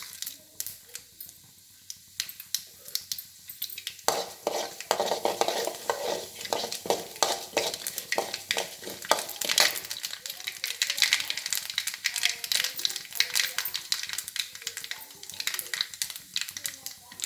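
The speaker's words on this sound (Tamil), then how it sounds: "எண்ணெய் காஞ்சிருச்சு கடுகு உளுத்தம்பருப்பு" Mustard seeds and urad dal sizzle and crackle in hot oil for a bitter gourd fry, a dense popping hiss that rises after a quiet start and stays busy and close throughout, with a voice faintly present.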